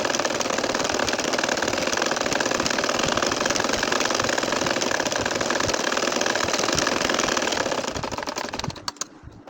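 A domestic sewing machine runs steadily as it stitches curving lines through a baby kantha quilt, a close, continuous mechanical whirring that holds through the clip and trails off near the end.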